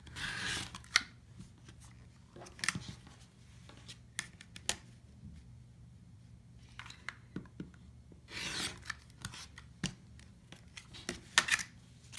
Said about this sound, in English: the rotary cutter certainly makes this job a lot easier